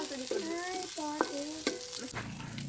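Green chili peppers sizzle in a hot pan while being stirred for a Bicolano adobado, with repeated spatula scrapes over a steady, close frying hiss and no talking.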